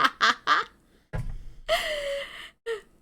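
A squeaky toy duck gives several short honking quacks, with breathy gasps and a longer drawn-out squeal between them, loud and close in a quiet room.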